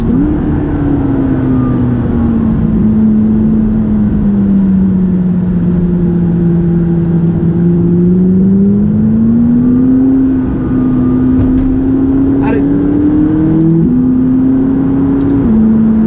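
McLaren 570GT sports car accelerating along twisty country roads in Gloucestershire, its engine note rising and falling through the gears in one continuous close, loud drone with shifts and a brief sharp whine near the end.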